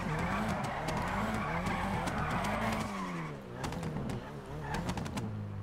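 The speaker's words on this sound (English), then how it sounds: "I hear cars drifting." Tires squeal in long wavering skids from cars drifting at a distance, with engines revving underneath.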